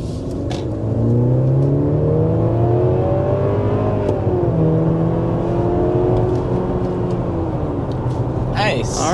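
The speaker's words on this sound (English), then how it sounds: "accelerating up to 60 miles per hour" A Mercedes GLC 300 with a 2-liter turbo engine accelerates hard to 60 mph, its loud, steady engine note climbing in pitch through the gears from inside the cabin.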